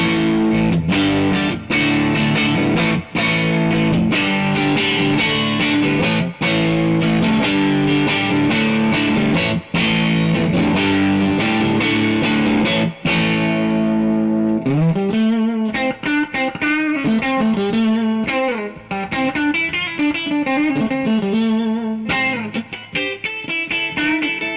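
Electric guitar, a Fender Telecaster, on the clean channel with mild, crunchy overdrive, first strummed chords with short pauses, then a melodic single-note passage ringing out up close.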